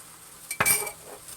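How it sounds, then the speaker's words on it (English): An egg being scrambled with a utensil in a buttered pan, a brief metallic clink and scrape against the pan over a faint background hiss, close and short. "So let me throw in my egg, and like I said, we're just going to have a little scramble."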